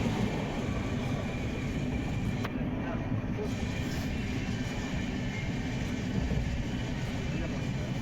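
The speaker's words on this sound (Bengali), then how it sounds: "আর ট্রেনে কিন্তু টাপ্পু এর এই প্রথম জার্নি" A passenger train rolls along on the way to Puri, heard from inside the coach as a steady low rumble and rattle with faint voices in the background.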